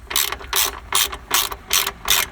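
A 13 mm socket on a ratchet wrench tightens a muffler bolt on a 1994 Chevy Astro van, giving six rhythmic bursts of loud, close clicking, evenly spaced.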